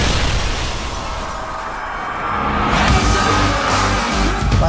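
A bomb blowing up in a trailer, a loud, heavy blast followed by a rumbling roar that swells again partway through, sounding close and powerful.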